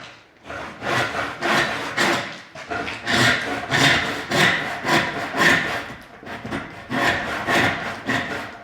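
A hand saw cuts through a log clamped to a table, giving loud, close rasping strokes in a steady back-and-forth rhythm with brief pauses between runs of strokes.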